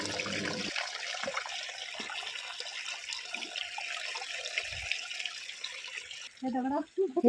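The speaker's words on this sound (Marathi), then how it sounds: "खळखळ वाहणारे पाण्याचे झरे आणि प्रवाह दिसले" Steady rushing, babbling water of a river in the Konkan region, Ratnagiri, India, fills the scene, with faint voices murmuring briefly near the end.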